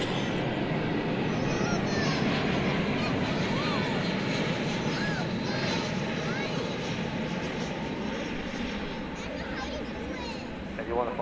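Steady airliner engine roar in America West livery at DFW Airport, a continuous broadband rumble held at even level throughout, with a person talking over it.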